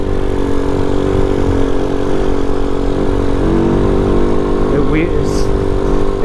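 Vader 125 motorcycle engine under way while riding, a loud close steady buzzing drone with a brief pitch change as a gear is shifted, under rider talk.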